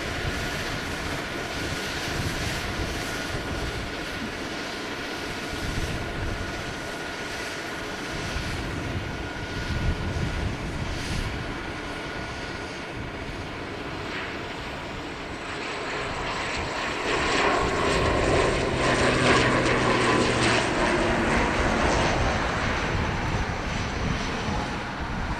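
A China Eastern airliner departing Dublin Airport: a loud, steady jet engine roar runs throughout, swelling stronger in the latter part as the aircraft powers away, with no talking.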